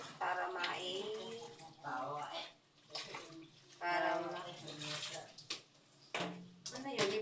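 Washing under running water indoors, a steady splashing stream that keeps stopping and starting, with a person talking close by over it.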